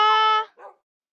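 In the Minecraft-style game SuperCraft, a dog gives a single loud, tonal yelp that breaks off, followed by a brief softer yip, both heard alone.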